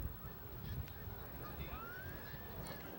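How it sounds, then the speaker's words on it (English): Geese honking over a soccer field during a 1993 girls' high school game on a grey day, a faint rising call drifting across steady low rumble of wind and crowd noise, distant rather than close. "And the Geese are back, of course."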